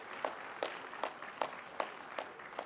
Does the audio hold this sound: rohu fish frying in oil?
no